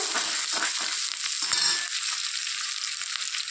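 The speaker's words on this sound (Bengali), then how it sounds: "কাঁচা লঙ্কা দিয়ে একটু এটা ভেজে নেব" Steady, close sizzling of frying in a pan with green chillies, a bright continuous hiss with a brief stir or scrape partway through.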